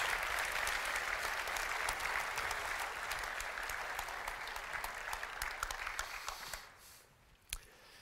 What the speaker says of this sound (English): Let's give them another round of applause to say thank you so much.